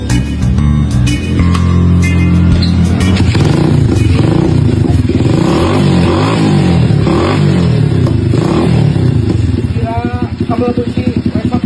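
A motorcycle engine runs steadily and loudly at close range in a Sundanese workshop setting, with voices and clattering noise mixed over the continuous drone.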